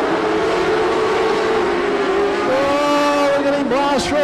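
Modlite race cars at Archerfield Speedway, engines winding up in a loud sustained roar with rising and falling pitch as they race, under the announcer's commentary.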